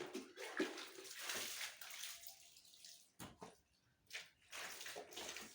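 Household items are rinsed under running water and left to drain, a faint steady flow of water with splashing and sloshing that briefly pauses midway before resuming.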